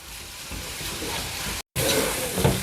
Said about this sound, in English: Saute some onions and garlic.